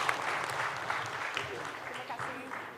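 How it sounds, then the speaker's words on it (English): Conference audience applause, a soft, distant spread of clapping running throughout, with a voice speaking over it. "Let's give another round of applause to Ibu Leslie."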